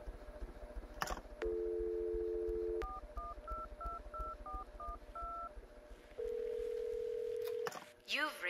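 A telephone number is punched in as a quick run of paired DTMF keypad beeps, framed by a steady dial tone before and a longer held tone after, loud and close on a phone line.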